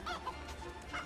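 A chicken in the video game Fable 3 clucks in short bursts over a soft game soundscape, fairly close and moderately loud.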